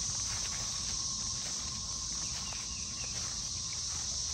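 Steady high-pitched insect buzzing of cicadas calling outdoors fills the scene continuously, loud and constant with no pauses, a dense droning chorus.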